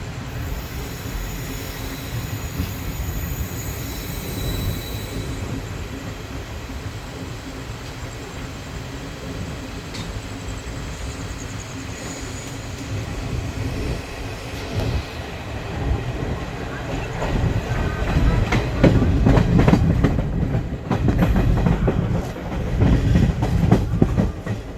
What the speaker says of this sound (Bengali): ওই যে নৈহাটি শিয়ালদা লোকাল।